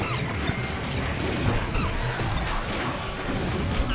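Up smash attacks land in a Super Smash Bros. Brawl match, heard as repeated punchy hits and crashes within a steady, dense wash of game noise and crowd sound.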